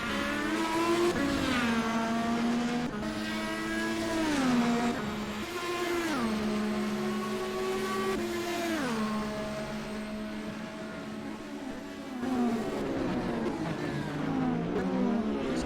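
Indy race cars at the Toronto Street Circuit whine continuously, the engine pitch climbing and dropping repeatedly as they accelerate and brake through a 2019 Indy Z Car race.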